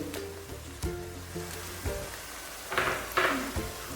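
Curry leaves and garlic fry in a pan for a traditional Kerala chicken curry, a bright continuous sizzle punctuated by scraping stirs that send up louder bursts of hissing.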